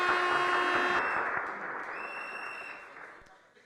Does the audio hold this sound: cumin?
no